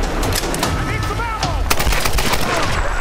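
Gunfire in Tomb Raider: Definitive Edition, a dense, continuous barrage of shots and booms alongside chirpy game effects, with speech mixed throughout.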